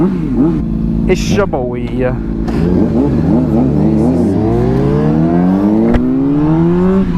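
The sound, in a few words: Honda CBR600RR motorcycle engine revving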